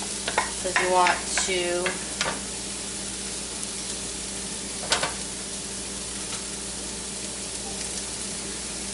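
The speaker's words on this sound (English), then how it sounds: "And I'm going to put my onions in." Onions added to an oiled pan for a keto radish dish, giving a steady sizzle with stirring and scraping clatter near the start and one sharp clank midway; a voice speaks briefly.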